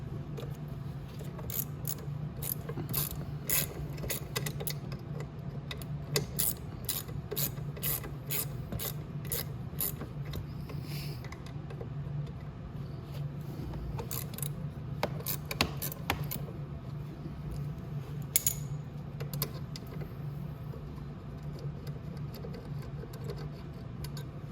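A ratchet with an 8 mm socket and extension loosens motor bolts on a Venom E-Madix 1300W electric ATV, sounding as repeated bursts of sharp, rapid clicking strokes with pauses between them, close and moderately loud.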